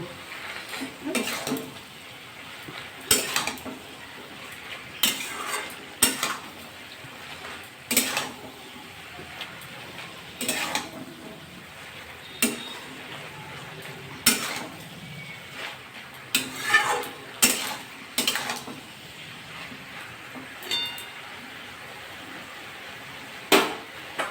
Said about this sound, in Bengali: এবার নাড়িয়ে দেব